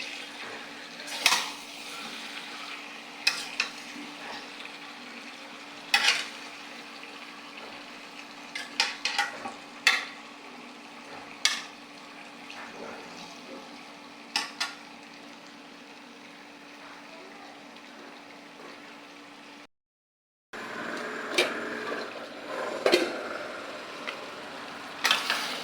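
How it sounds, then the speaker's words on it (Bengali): Chicken pieces with potatoes being sautéed in a pan over a village stove: a continuous low sizzle punctuated by repeated scraping clinks of a stirring spoon, briefly cutting out near the end before resuming. "এই যে আমার মুরগির গোশতটা সুন্দর করে কষিয়ে নিতেছি।"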